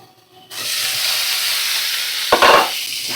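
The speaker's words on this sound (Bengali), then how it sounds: "নুন হলুদের সাথে ভালো করে ভাজা করা হয়ে গেছে 2-3 মিনিট।" Pumpkin pieces sizzle loudly in hot oil with salt and turmeric, a steady frying hiss that starts abruptly and carries a brief stirring scrape partway through.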